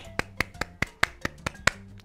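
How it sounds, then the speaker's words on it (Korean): A small group claps for three children's birthdays during an online children's church service, eight or nine sharp, evenly spaced claps ringing out at a steady rhythm in a quiet room. "다 같이 박수 해줄게요."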